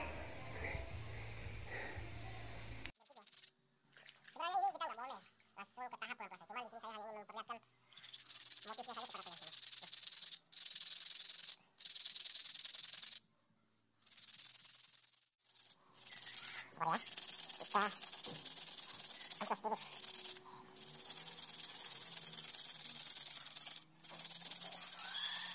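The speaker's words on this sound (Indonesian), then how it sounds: "kita coba lakukan pengamplasan langsung pakai amplas kasar" Coarse sandpaper rasps directly across a snake-scale patterned stone in long hissing strokes broken by short pauses, close and steady, with a voice talking briefly near the start.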